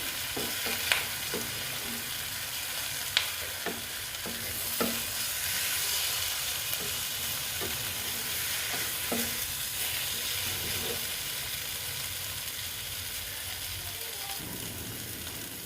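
Egg capsicum masala sautéing in a pan, with a constant close sizzle and repeated clicks and scrapes from a spoon stirring it, spaced irregularly, and no talking.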